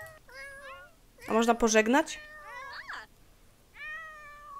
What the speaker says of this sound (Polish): jak one miauczą cały czas